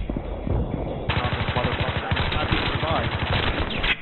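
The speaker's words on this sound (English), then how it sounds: "A shotgun from that far away?" Gunfire in the video game Battlefield 3, a loud, close burst of rapid repeated shots in quick rhythmic succession, mixed with a voice shouting over the action.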